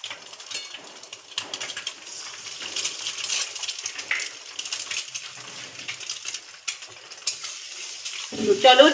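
Mustard oil heats in a hot wok, giving a steady, moderately loud crackling sizzle throughout, with a sharper burst of sizzling near the end.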